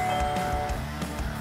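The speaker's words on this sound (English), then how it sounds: "I'm going to do a small test to see if the bell will ring if we press the button" A mechanical bell pulled by a motor and triggered from a Nest Hello doorbell button rings with a few loud, sharp strikes that leave a steady metallic ring sustaining between them.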